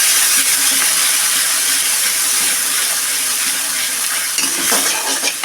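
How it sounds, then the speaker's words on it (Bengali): Vegetables sautéing with ginger paste in a pan for a Bengali shukto, a steady loud sizzle with faint scraping of stirring throughout, and a few clinks near the end. "এবার ভালো করে নাড়াতে থাকবে,"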